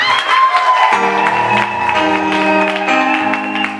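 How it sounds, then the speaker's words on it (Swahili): A church congregation claps together at a service while sustained keyboard-like music plays underneath, the clapping loud and close. "Si tuangie makofi jamani"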